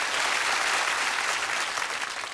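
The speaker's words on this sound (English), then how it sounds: "Nice round of applause for Amanda." A studio audience at a televised magic show breaks into dense, even applause that holds steady and loud throughout, with no talking over it.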